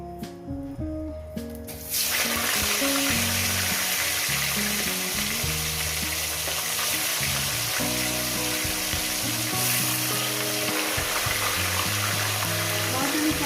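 Pieces of fish slide into hot oil for a spicy fish curry with taro stems; after a quiet opening, a loud, steady, crackling sizzle starts suddenly and runs on without letup.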